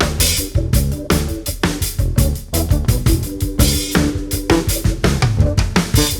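Snare drum run through a Blue Stripe-style 76 compressor, gritty and punchy, hitting in a steady groove with other drums and instruments in a full, dense mix.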